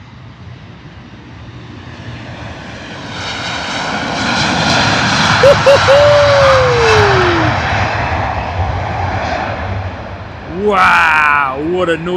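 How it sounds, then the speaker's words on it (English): A heavy Virgin Atlantic Airbus A330 taking off from Heathrow, bound for Orlando, a loud jet roar swelling over several seconds and then holding, with a voice talking near the end. "what a noise from the 330 Virgin Atlantic off to Orlando"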